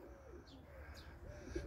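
Young racing pigeons coo faintly as they come back to the loft after a hard 65 km race from Gdańsk. Soft, low, rolling coos and a few chirps sit under a steady background hum, with no speech.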